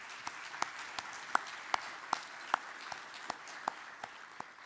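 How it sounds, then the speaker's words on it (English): Sparse applause from an audience at a policy event on the congressional outlook, heard as scattered, individual claps at a steady, unhurried pace, fairly faint over a quiet room. "if we could please give them a round of applause for all their work today"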